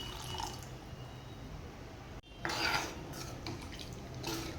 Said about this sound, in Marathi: तर इथे पाणी घालून घेते